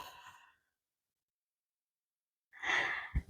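A long slow exhale during a vinyasa yoga flow, the breath rushing out loud and close, preceded by the tail of an earlier breath and a silent pause.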